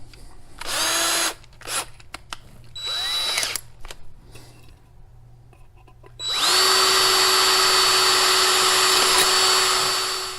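Power drill boring 1/4 inch holes for a simple homemade alcohol stove: several short bursts of whining drilling, then one long, loud sustained run near the mic, with no talking.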